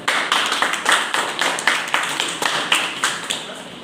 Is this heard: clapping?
yes